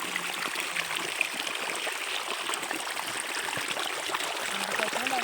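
Water flows steadily through a farm field irrigation channel, a continuous broadband rushing and trickling that stays even and fairly close throughout, with no talk over it.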